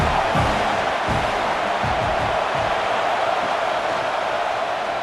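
A packed stadium crowd roars at a college football game, South Carolina against Auburn, as a broad, steady wash of cheering that stays loud and even from start to finish.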